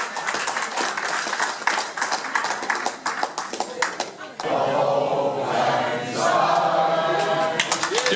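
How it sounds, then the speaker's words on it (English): Year-end crowd at a Christmas Island gathering claps loudly, a dense burst of many hands that shifts midway into a steadier, fuller ovation with some voices mixed in. "Give yourself a round of applause."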